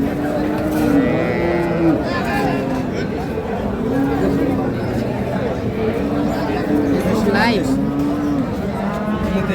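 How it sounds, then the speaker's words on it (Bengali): Sahiwal dairy cows with calves at the Ambari cattle market, where loud, drawn-out moos repeat steadily over a dense murmur of crowd chatter and bustle. "গাভী এবং বাছুর।"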